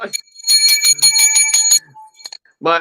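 A bright bicycle-style bell rings several times in quick, clustered strikes during a live stream, its metallic tones sustaining briefly, followed by a short burst of speech at the end.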